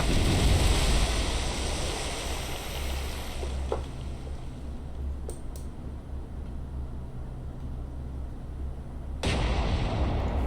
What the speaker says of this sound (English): She is still returning fire, but only with the aft turrets.